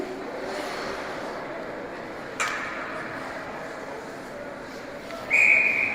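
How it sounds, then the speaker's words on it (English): A referee's whistle at an ice hockey game. There is a brief, faint chirp early on and then a sharp, clear blast near the end, over arena crowd noise and a commentator's voice. "Puck up over on the netting and whistled dead."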